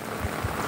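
Heavy monsoon rain in Sri Ganganagar pours steadily as a dense, even hiss over a short stretch, with a couple of low thumps beneath and no voices.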